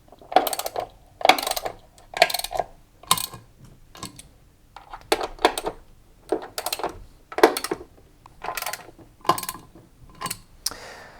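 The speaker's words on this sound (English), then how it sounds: "So I'm just going to tighten the screws up." Screws being tightened on the drum counterweight of a washing machine, a series of short metallic ratcheting bursts in a steady rhythm, about a dozen turns, close up with no talking.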